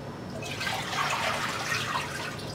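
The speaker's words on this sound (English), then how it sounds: "we add some water in here" Water is poured into a cooking pot in preparation for boiling crabs, a close, steady splashing gush rising and fading over a few seconds.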